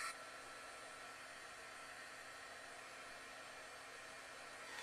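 A hair dryer blows steadily on wet watercolor paint in a craft session, a constant, even whooshing hiss heard alone for several seconds.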